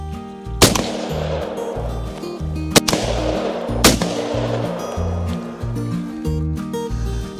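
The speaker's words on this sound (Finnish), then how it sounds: "Puskan jälkeen voi ampua jo." Three loud shotgun blasts ring out during a duck hunt, the first at about half a second and the others a couple of seconds apart, over a steady low motor-like hum and broadband background noise.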